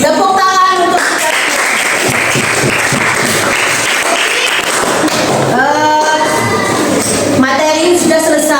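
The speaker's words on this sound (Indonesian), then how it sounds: "Tepuk tangan untuk kita." A crowd claps loudly and continuously for several seconds while voices call out over and between the applause.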